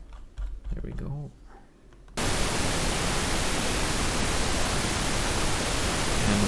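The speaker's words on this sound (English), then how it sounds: "let's have the pink noise on." Pink noise played in Bitwig music software, a dense steady hiss that switches on abruptly after a few seconds of someone speaking and then holds at constant loudness.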